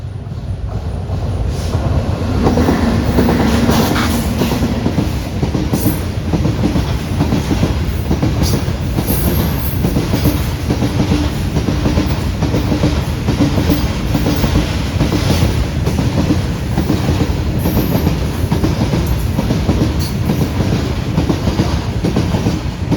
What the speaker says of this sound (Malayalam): one more train is coming